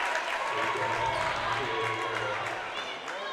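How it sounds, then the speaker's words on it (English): Crowd at a high school basketball game cheering and applauding in a gym, a steady roar of clapping and voices with an announcer talking over it. "Crowd getting into it"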